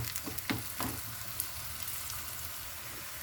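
Onions for a home-style shakshuka fry in a small pan, a faint, steady sizzle with a few soft scrapes of stirring near the start, heard alone without talk.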